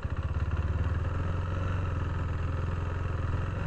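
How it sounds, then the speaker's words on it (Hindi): KTM Duke 390 BS6 motorcycle rolling slowly in first gear, a steady low, pulsing single-cylinder engine thrum with a fast, even beat, close and continuous with no talk. "देखो बाइक चल रही है, 22 तक पहुंच गई"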